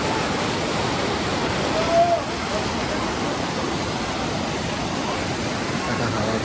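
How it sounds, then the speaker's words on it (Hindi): A fast-flowing river rushes through Aru Valley near Chandanwari while strong wind blows, forming a dense, steady roar that stays loud and unbroken throughout, with faint talk barely audible beneath it. "हवा भी बहुत तेज़ है, नदी का धारा भी बहुत ज़ोर से जा रहा है, आप लोग आवाज़ सुन के ही पहचान सकते हो।"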